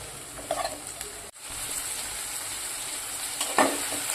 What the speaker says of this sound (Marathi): मी आता टोमॅटो पण छान असा शिजून घेत आहे तेलामध्ये